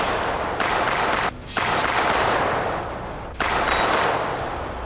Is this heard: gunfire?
yes